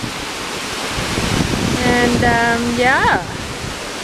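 Gallu Waterfalls in the Western Ghats rush in a loud, steady roar heard from a rocky viewpoint, with a person talking briefly over the noise.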